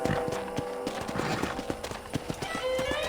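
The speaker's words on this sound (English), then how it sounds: "let's see if you can still ride a horse" Hooves clip-clop in quick rhythmic beats as a horse is ridden around a ranch in Red Dead Redemption, with a horse whinnying over the steady galloping cadence.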